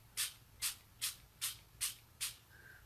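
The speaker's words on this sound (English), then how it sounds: "I'm just going to spray from a bit of a distance." Six evenly spaced hissing bursts from a spray can aimed from a short distance at white velvet paper, each short and soft against a quiet background.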